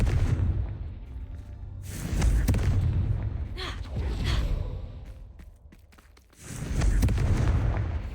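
A Confringo fire-blast spell goes off in a video game, several booming explosive bursts with whooshing tails, separated by quieter gaps, loud and close.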